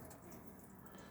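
Water running continuously from a tap in a 2009 Lunar Ultima SB caravan with the water pump switched on, a steady, quiet hiss without breaks or speech.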